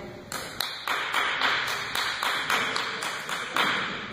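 A volunteer claps hands in a steady series of about a dozen sharp claps, evenly spaced and fairly close, in an indoor room with no talking over them.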